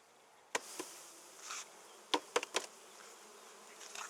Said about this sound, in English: So let's get these bees into here first off.